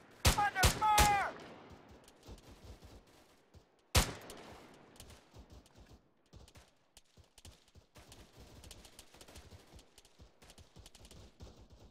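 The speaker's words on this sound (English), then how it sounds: "Enemy fire! Under fire!" Gunfire in the Arma 3 military shooter during a firefight near a gas station: a quick cluster of sharp shots up front, one loud crack a few seconds later, then scattered fainter pops, with voices talking underneath.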